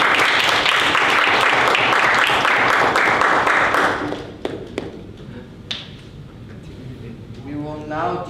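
A room of Model UN conference delegates bursts into brisk clapping after a resolution passes, loud for about four seconds before thinning to a few isolated claps and knocks as a voice begins speaking.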